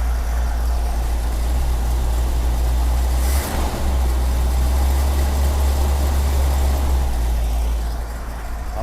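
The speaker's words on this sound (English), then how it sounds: "The engine still starts after all these years." Steady low rumble of a 1954 Chevy 5-window pickup's rebuilt engine idling close by, with a brief stumble partway through before it settles back into an even idle.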